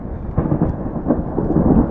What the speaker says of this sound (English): There's literally lightning coming down all around us.